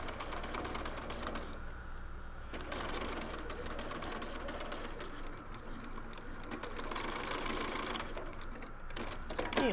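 A sewing machine stitches slowly and steadily over a metal zipper's teeth on a reusable snack bag, close and continuous with slight changes in pace, alone without talk.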